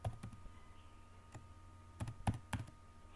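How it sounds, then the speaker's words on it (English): Someone typing a short word on a computer keyboard, a handful of light, crisp key clicks in an uneven burst, close and quiet, with no voices. "And then I'm going to type offer."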